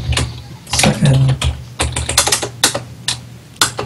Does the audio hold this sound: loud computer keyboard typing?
yes